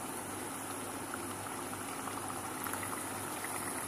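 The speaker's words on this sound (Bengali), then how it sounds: "খুব সুন্দর করে আমি ভেজে নিচ্ছি তেলের মধ্যে। দেখেন দর্শক আমার ডোনাটগুলো আলহামদুলিল্লাহ।" Donuts sizzle in hot oil, a constant dense crackling and bubbling hiss that stays steady and fairly quiet throughout, close up with no voices.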